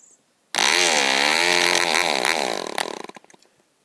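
A PAW 1.5cc model diesel engine suddenly fires and runs with a loud, high-pitched buzzing whine that wavers in pitch for about two seconds, then sputters and dies out with a few rough pops.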